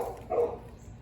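A single short bark rings out near the middle, fairly close, over a steady outdoor background hum.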